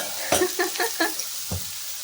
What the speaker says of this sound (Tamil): இப்போ நம்ம வந்து வதக்கிட்டு இருக்கோம்.